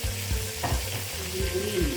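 Long green chili peppers drop into a hot pan and sizzle loudly, with crackling frying and a few soft stirring scrapes close by, no voices.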